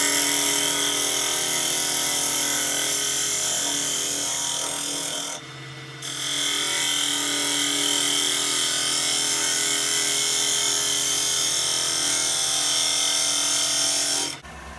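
Woodturning tool scraping across a spinning wooden chip and dip platter on a lathe, a continuous rough hissing drone with a brief pause in the middle, close and steady.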